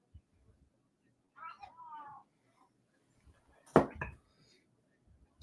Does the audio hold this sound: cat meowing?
yes